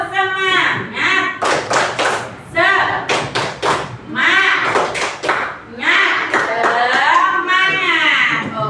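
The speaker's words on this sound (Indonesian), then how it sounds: "kita tepuk semangat dulu ya" A teacher leads a classroom of students in a rhythmic 'tepuk semangat' clapping chant, with bursts of sharp hand claps in quick patterned groups mixed with loud chanting voices.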